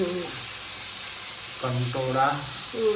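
Chopped spiny gourd (kankoda) sizzling in a hot pan for a sabzi, a steady close frying hiss under a voice speaking.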